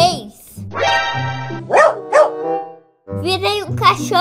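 A child imitates a dog, with voiced barks and yips in short bursts mixed with whiny, sing-song speech, close to the microphone.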